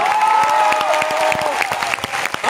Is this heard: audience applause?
yes